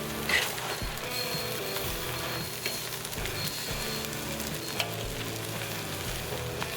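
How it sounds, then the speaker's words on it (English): Shrimp fried rice sizzles steadily on a hot Weber kettle grill, a dense close crackle with occasional scraping clicks of a utensil stirring through it, no talking. "Shrimp fried rice on the Weber kettle."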